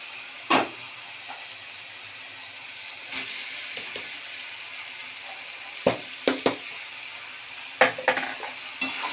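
Potatoes stir-fried in spice paste in a pan give a low, steady sizzle, broken by a few sharp scrapes and clatters of a utensil against the pan, with no talking.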